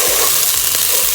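Vegetables and rice sautéing in a pan for a vegan Mexican rice soup with fresh tomatoes, a steady close sizzle with soft stirring scrapes, no talking.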